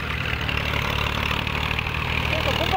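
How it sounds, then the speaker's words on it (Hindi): A second tractor's engine runs near the Chenab River as it approaches, a steady close low rumble and chugging drone that holds throughout, with faint voices mixed underneath. "ये दूसरा ट्रैक्टर आ रहा है दोस्तों"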